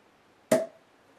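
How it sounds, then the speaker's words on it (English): Cork popping from a bottle of Allagash Coolship Red Oak barrel-aged wild ale with raspberries: one sharp, loud pop close by, with a short ringing tail over faint room noise. "Oh yeah, a big pop."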